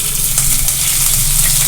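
Ginger and green chilies frying in a pan for no-onion, no-garlic palak paneer, giving a steady, close hiss and sizzle of hot oil with faint crackles throughout.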